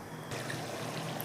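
Water poured into a pan of drumstick (moringa) curry with turmeric and masala, a soft steady trickle and splash close by over a low background hiss, with no voices.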